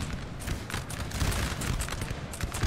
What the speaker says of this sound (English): Oh, that was such a well-timed volley.